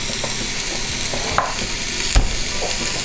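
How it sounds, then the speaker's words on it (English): Onions and bacon caramelizing in a pan, giving a steady, close, loud sizzle with a couple of brief stirring knocks, no voices. "Start to caramelize the onions and caramelize the bacon"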